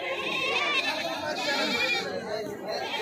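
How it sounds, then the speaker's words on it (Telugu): A male goat bleats at a busy Indian goat market, wavering cries close by over crowd chatter, with people talking nearby. "ఫ్రెండ్స్ ఇటు ఒక మేకపోతు ఉంది దీని రేట్ అడుగుదాం"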